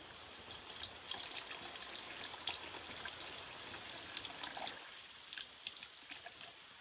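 Distilled water is poured into car battery cells from close by, a soft continuous trickle and splash that thins and then stops, leaving quieter, sparse dribbles.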